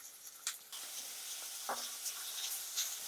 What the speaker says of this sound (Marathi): हाय फ्लेमवर आपण यात सगळ्या भाज्या परतून घेऊयात.